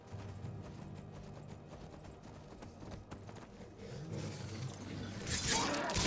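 Horse hooves clip-clop steadily in the Skyrim video game, a faint rhythmic trot that swells louder with a burst of clatter near the end.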